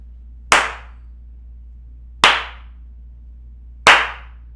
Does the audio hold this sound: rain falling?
no